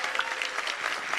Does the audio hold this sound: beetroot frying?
no